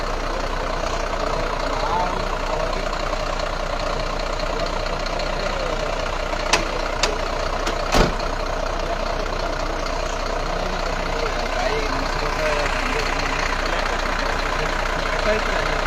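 A vehicle engine idles with a steady low rumble held at a constant level, with a couple of brief knocks and people talking over it.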